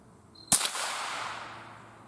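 A single sharp rifle shot from a Marlin Model 60 .22 firing a Mini Mag high velocity hollow point round, loud and close, its crack trailing into a long fading echo, with no talk.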